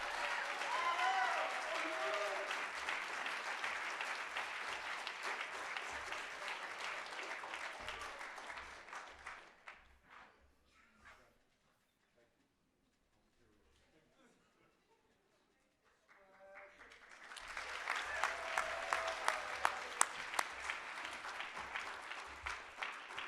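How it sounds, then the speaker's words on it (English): Audience applause at a student awards ceremony, loud sustained clapping that fades into near silence midway, then swells again into a second strong round of clapping. "so keep the applause going for that."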